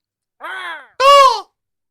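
A person imitates seagull cries with the voice: two short nasal squawks in quick succession, loud and close, the second one stronger.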